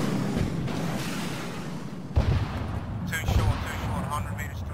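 Artillery rounds fire and land during an ArmA 3 military shooter mission, heard as loud, dense booming and rumbling with sharper impacts that keep the sound level high throughout, while voices are heard in the background.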